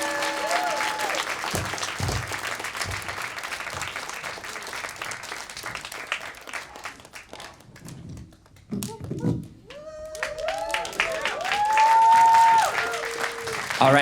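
Audience applause at a Studio40 summer showcase, a crowd clapping near and lively, with scattered voices and some background chatter mixed in as the clapping rises and falls.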